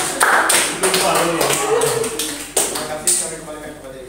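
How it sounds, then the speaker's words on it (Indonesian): Students in a classroom clap after a group presentation in a microteaching session, with a few bursts of clapping under a person speaking. "Boleh tepuk tangan."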